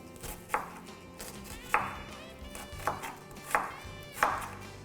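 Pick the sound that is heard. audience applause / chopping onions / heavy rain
chopping onions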